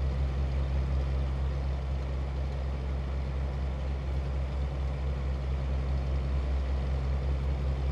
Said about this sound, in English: Drive into the darkness, nothing but the hum of the engine,